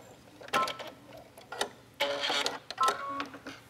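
A sewing machine back-stitches a t-shirt hem in quick, separate whirring bursts, close and fairly quiet, with short pauses between each run of stitches.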